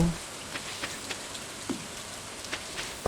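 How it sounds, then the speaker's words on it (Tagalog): Rain falls steadily in the farming game Stardew Valley, a soft continuous patter with a few brief, faint drop-like ticks scattered throughout. "So, buti na lang umuulan."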